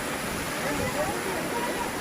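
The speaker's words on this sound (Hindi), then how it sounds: "ये बहते पानी की आवाज़ बहुत सूदिंग सी लगती है ना" Water flows over small waterfalls at a hill-station tourist spot near Panchgani and Mahabaleshwar, making a constant, moderately close rushing wash with no break.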